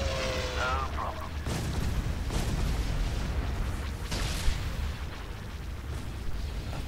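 Cannon volleys fire in a Star Wars space battle video game, heavy booms recurring at intervals over a dense rumbling battle din, with a processed voice audible briefly at the start.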